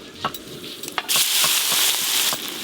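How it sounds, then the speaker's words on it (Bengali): Chopped onion dropped into hot oil with whole spices—green cardamom, cloves, cinnamon, dried red chilli and mace—bursts into a loud, steady sizzle after a few faint ticks and pops. "ফোড়ন হয়ে গেছে, এবার পেঁয়াজ কুচি দেব"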